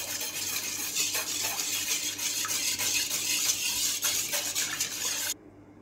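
Puto batter being stirred with fresh milk and a pinch of salt in a mixing bowl, continuous scraping and whisking against the container, close and steady, stopping abruptly near the end.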